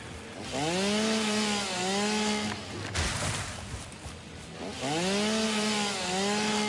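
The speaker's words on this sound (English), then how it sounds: "of using area mode for the chainsaw" Chainsaw cutting trees in the factory-building video game Satisfactory, two sustained rising-and-whining cuts separated by a short pause, loud and close with no talk.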